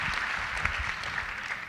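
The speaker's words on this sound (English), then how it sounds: "Let's give him a round of applause." An audience at a high school academic awards night claps for an absent student, a brief, fairly faint patter of applause from a mid-sized crowd across the room, with no speech over it.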